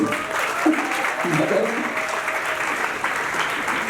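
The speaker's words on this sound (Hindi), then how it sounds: "तो मैं तो ताली बजा देनी चाहिए" Audience applause fills a hall, steady clapping from a seated crowd with some voices mixed in, continuing evenly throughout.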